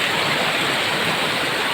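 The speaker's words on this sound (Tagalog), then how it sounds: "Masarap ang agos ng tubig." Water from a large waterfall on a trek in Aurora Province rushes in a steady, loud, broadband roar, close and unbroken throughout, with no voices.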